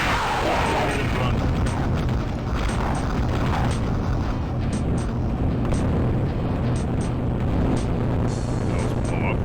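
Explosions from objects blowing up during run-and-gun play in the game SkyRoads, heard as a dense, continuous rumble of booms and crackling blasts that stays loud throughout.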